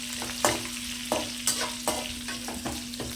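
Egg fry ingredients sizzle in a pan while a spatula scrapes and stirs in a steady rhythm of sharp strokes, about eight of them over a faint constant hum, close and moderately loud.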